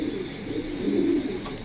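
Pigeons in a home loft of large racing birds, a low soft cooing that swells and rolls for a moment, close by with background room noise and no talk.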